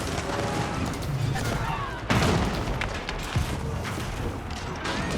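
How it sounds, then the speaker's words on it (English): Great Bombard cannons and mangonels firing during a real-time strategy battle between Order of the Dragon and Ottoman armies: dense, continuous booms and crashes under steady commentary, with a heavy impact standing out midway. "Early Great Bombard firing away."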